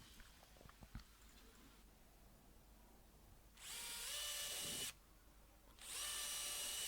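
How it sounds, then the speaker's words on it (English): Power drill boring pilot holes into pallet wood for a rustic crate, two loud bursts of whirring separated by a brief pause, after quieter workshop handling sounds. "I'm going to drill a couple of pilot holes for the screws just to make sure everything goes in nice and straight"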